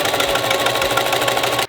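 A vintage Singer sewing machine with a buttonholer attachment, set to zigzag, stitches a buttonhole. It gives a steady, fast mechanical whirring hum with rhythmic stitching pulses, loud and close, running continuously until it stops abruptly at the end.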